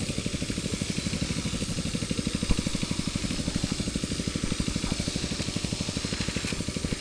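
Small motorized fertilizer-spreading machine used on a chili pepper field, running steadily with a fast, even chugging pulse throughout, loud and close with no talk.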